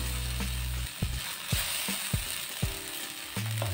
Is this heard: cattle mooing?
no